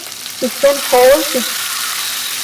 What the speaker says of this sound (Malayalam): ആ ഓയിൽ ചൂടായതിന് ശേഷം മുറിച്ച് വെച്ചിട്ടുള്ള മസാല പുരട്ടിയ മുറിച്ച് വെച്ചിട്ടുള്ള ചിക്കൻ നമുക്ക് അതിൽ ആഡ് ചെയ്യാം